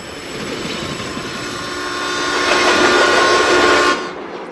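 A train stands at a station with a loud, steady mechanical hum and hiss that swells slightly before dropping away abruptly near the end.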